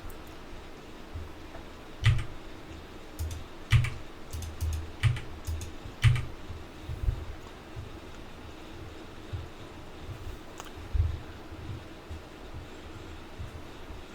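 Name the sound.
typing quantities on a computer keyboard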